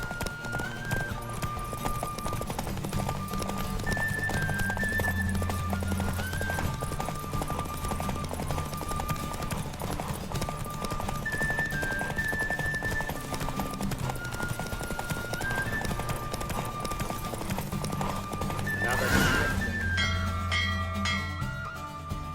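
A horse gallops flat out during a race in The Witcher 3 video game, its quick, steady hoofbeats running the whole time over game music, with a short neigh near the end.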